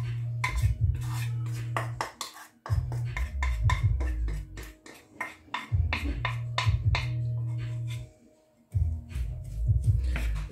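Chopped onion tipped into olive oil in a pan for a southern Tunisian mtabga sauce, with repeated clinks and scrapes of utensil against pot and a low sizzling rumble, close and fairly loud, pausing briefly twice.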